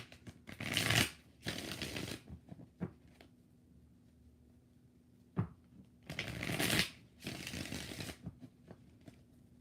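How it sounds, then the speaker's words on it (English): A deck of tarot cards being shuffled in four distinct bursts of riffling and sliding, each lasting about a second, with quiet pauses and a faint steady hum between them. "Four shuffles for Zahia."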